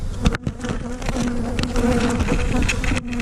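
Agitated honeybees swarming around hives after nearby mowing, a dense, loud, continuous buzzing with individual bees droning close past, alone without speech.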